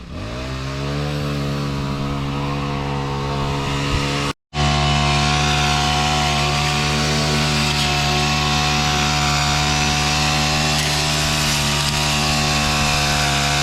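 A chainsaw runs at steady high revs while clearing brush behind a house, loud and continuous, with one abrupt brief cutout near the middle before it resumes at full throttle.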